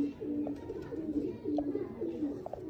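A female pigeon coos close by in repeated low, throaty phrases, with faint background noise between calls.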